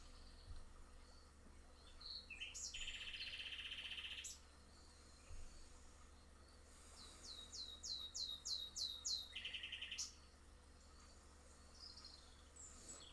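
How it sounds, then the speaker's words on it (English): Birds chirp outdoors during a quiet morning yoga session, with bursts of high, rapid trilling and a run of repeated chirps, fairly faint and distant against a soft background hiss, with no voices. "Listen to the birds."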